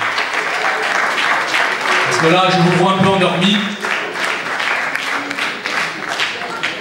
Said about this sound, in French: On peut lever les drapeaux, on peut applaudir.